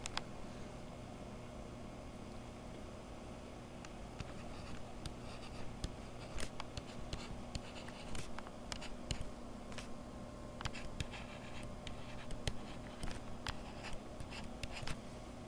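Chalk or marker writing numbers on a board in a classroom, a long run of faint scratches and sharp little taps at an uneven pace over a low steady hum, no talking.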